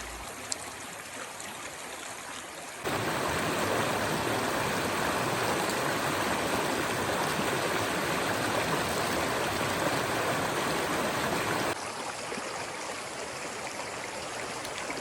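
A stream flows right beside riverside guesthouses in Chiang Dao, its continuous rushing and splashing water loud and close, swelling fuller through the middle stretch.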